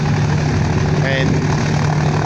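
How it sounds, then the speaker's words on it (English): Lockheed Hudson aircraft engines power up at an air show in Edinburgh, South Australia, giving a steady, dense, broad drone with a low humming tone that stays loud and constant throughout. "You can hear the Hudson's actually powering up."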